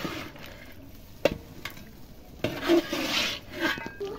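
Beef sautés in a pot over a clay stove with cardamom and cinnamon, a soft sizzle under scraping strokes of a spatula, two sharp knocks against the pot, and stirring that swells louder toward the end.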